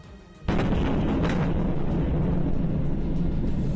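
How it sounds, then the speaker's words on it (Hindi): Russian military rocket striking a multi-storey building, captured on a nearby CCTV camera: a sudden loud explosive boom after a quiet moment, followed by a sustained roaring rumble of blast and debris. "रूस की फौज का एक रॉकेट तो सीधा एक बहुमंजिला इमारत से टकरा गया।"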